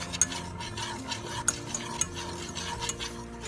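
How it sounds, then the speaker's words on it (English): A spoon stirs flour into melted butter in a pan for mac and cheese, making a steady scraping swirl with light sizzling and occasional clinks against the pot, no voices. "Let's add the flour into the melted butter. Stir it all in."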